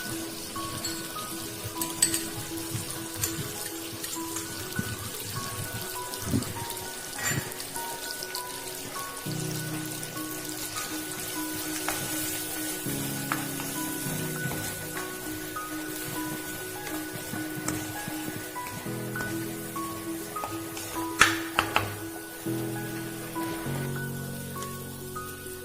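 Mutton keema frying in a pan with chili powder, a continuous close crackling sizzle like rain on a surface, steady for the whole stretch with scattered sharper pops and a faint background hum.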